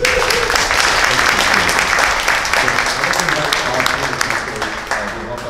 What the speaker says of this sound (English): Can you please give another round of applause for Kevin, please?